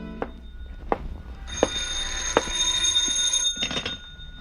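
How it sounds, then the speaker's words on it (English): An old-fashioned telephone bell rings in a vintage radio crime drama, a bright metallic ringing repeated in bursts with short thumps between rings, fairly close and with no talk over it. "the phone ringing that came from the phone."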